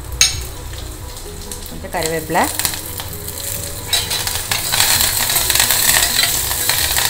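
Mustard seeds, urad dal, chana dal and dried red chillies fry in hot oil with a steady crackling sizzle that swells louder toward the end, along with a brief utensil scrape and a short spoken word.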